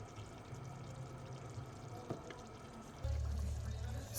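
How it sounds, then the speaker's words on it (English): Water draining from cooked biryani rice, a steady, soft pouring wash over a low hum that grows louder and fuller for the last second. "So this is the time where we drain the rice."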